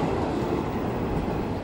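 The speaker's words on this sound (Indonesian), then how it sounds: "Ini ada KRL juga lewat ya." A KRL electric commuter train rolls past in Jakarta, a dense close rumble of wheels and rail noise lasting a short moment with no voices.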